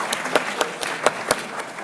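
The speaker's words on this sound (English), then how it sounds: "Let's clap again." Audience at a book launch in a community club claps again, a smaller group producing a loose rhythm of distinct, fairly close claps for a couple of seconds.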